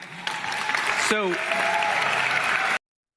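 A crowd applauds steadily after a question at a public meeting, a close, dense patter of clapping, with a brief whistle or cheer near the middle before it cuts off abruptly.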